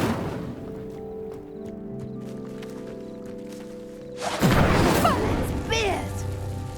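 A fire spell is cast in the Hogwarts Legacy video game, a sudden whooshing burst and crackle that rises loudly after a stretch of quieter ambient game music.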